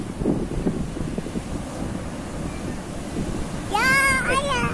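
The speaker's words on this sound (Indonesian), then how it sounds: "Ombaknya sangat santai" Ocean surf rolls at Parang Dowo beach in Malang, a broad wash of waves mixed with heavy wind buffeting on the microphone, while people talk nearby and a voice rises briefly near the end.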